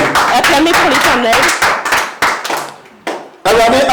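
Church congregation clapping and cheering in bursts, loud and close, with sharp claps broken by short pauses and voices rising over them.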